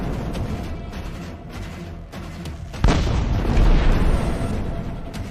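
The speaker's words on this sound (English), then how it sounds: "a Ukrainian tank fires point blank at another Russian APC" A tank gun firing point blank at an armored personnel carrier during war, one sudden heavy boom that leaves a loud, rumbling roar, heard over constant background noise with no talking.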